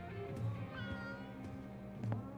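A cat meows in the video game Life is Strange True Colors, two or three short, fairly quiet calls over soft game ambience.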